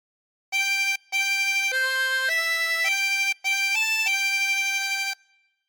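A bright, reedy chromatic harmonica plays the tune of God Defend New Zealand in sustained notes stepping up and down, with two short breaks, played alone and loud.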